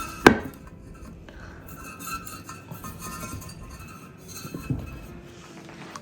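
A heavy glass ashtray is handled indoors, giving a sharp clink near the start and a softer knock later, over faint rubbing and room noise.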